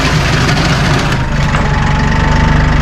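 A skid steer fitted with a Quicke 4-in-1 multi-use bucket runs steadily while back dragging material with the rear cutting edge, its loud, rumbling engine droning continuously at close range.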